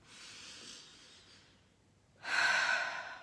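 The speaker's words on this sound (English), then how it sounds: "Let's take a breath." A slow, deep breath: a soft inhale through the nose, a brief pause, then a louder, breathy exhale through the mouth, close and alone.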